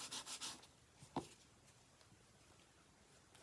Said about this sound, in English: grab your bone folder, give that a good burnish